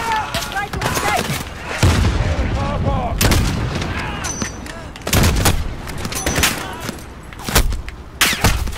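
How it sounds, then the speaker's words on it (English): Loud gunshots and heavy bursts ring out in Call of Duty Modern Warfare, coming in separate clusters with short gaps between them, while voices shout over the firing. "Where am I getting shot from?"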